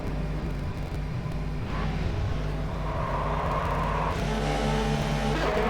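Ferrari racing cars head out onto a track in a racing video game, engine drone steady and loud throughout, with a higher revving tone rising in the second half.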